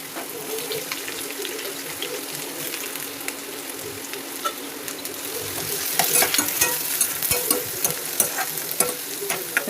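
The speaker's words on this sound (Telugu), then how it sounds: "ఇప్పుడు ఉల్లిపాయలు వేస్తున్నాం." Onions sizzle and crackle in hot oil for a gongura chicken curry, a steady bright frying hiss with stirring scrapes that grows louder and busier toward the end.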